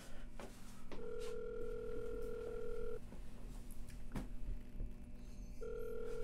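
A telephone rings in two long electronic bursts separated by a pause, steady and fairly prominent over a low background murmur, with no clear speech.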